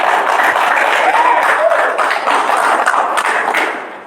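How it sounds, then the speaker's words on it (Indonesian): A small audience claps through a student group's mock talk show, a steady, fairly loud patter of hands that carries on throughout and fades slightly at the end, with a faint voice briefly audible. "boleh tepuk tangan dulu dong buat kita baru."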